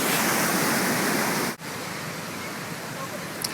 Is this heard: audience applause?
no